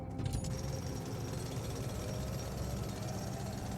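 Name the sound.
drill breaking rocks in video game The Alters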